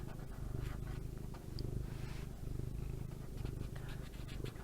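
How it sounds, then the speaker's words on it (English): A big, affectionate cat lies close by and purrs in a steady, low, rhythmic rumble that continues throughout, soft and near. "He's just purring away."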